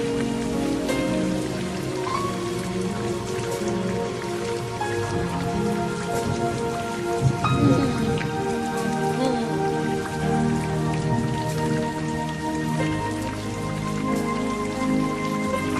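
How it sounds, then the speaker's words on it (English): Steady rain patters and drips on surfaces close by, with a soft low rumble of thunder swelling around the middle and a faint sustained musical tone underneath. "His rain is falling. It's falling. It's falling."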